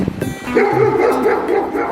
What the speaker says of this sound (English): You hear them dogs?